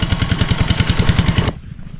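A small engine runs in a field being watered, its rapid, even chugging loud and close before cutting off abruptly, leaving near silence.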